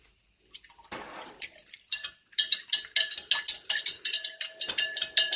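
Aloe vera juice poured into a pool of water for a cucumber aloe facial mist, a close, steady splashing pour with light clinks of containers, starting faint and growing into a continuous trickling stream.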